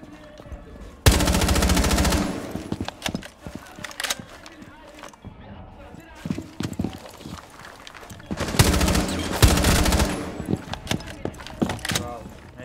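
Automatic gunfire in a Rainbow Six Siege ranked match, two loud sustained bursts near the start and again around two-thirds through, with scattered smaller game sounds and shots between them.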